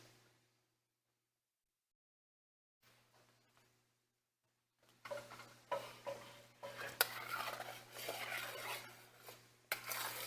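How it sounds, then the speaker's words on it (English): Cherry pie filling spooned into a pie dish for a cherry meringue pie: a quiet pause, then close, wet scraping and clinking of a spoon against the dish with soft plops, continuing steadily without any talk. "now I'm ready to go ahead and add the pie filling into the pie dish"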